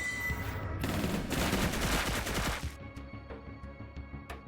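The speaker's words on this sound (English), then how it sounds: "Call on a strafing run." Rapid gunfire from a strafing run in a tactical defense strategy game: a dense, loud burst of sustained machine-gun fire for about two seconds over a rumbling battle bed, trailing off into scattered sharper shots and clicks.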